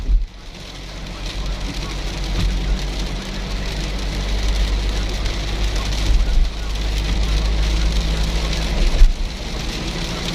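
Steady rain drums on a car roof heard from inside the vehicle on a traffic-clogged skyway, a constant close wash with the low hum of the engine and road beneath.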